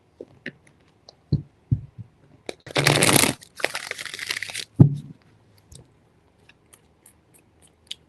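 Tarot cards are shuffled in two dense riffling bursts of a second or so each, close and crisp, framed by scattered soft taps and handling clicks in an otherwise quiet room.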